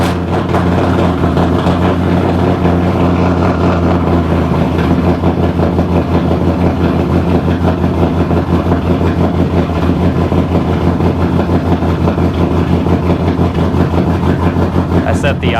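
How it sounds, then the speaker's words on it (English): A car engine with a custom base tune runs at a steady fast idle just after a cold start, a continuous low drone that fills the whole stretch with no change in rhythm. "So let's see, cold start right now."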